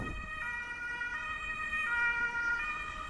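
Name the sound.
ambulance siren passing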